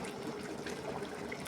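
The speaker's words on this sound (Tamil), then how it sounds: "தேங்காயும் வெங்காயம் தக்காளி அரைச்சி வச்ச பேஸ்ட் ஊற்றினோன்னா" A ground paste of coconut, onion and tomato is poured into a simmering potato kurma, making a steady, close, wet gushing and bubbling wash with no talking.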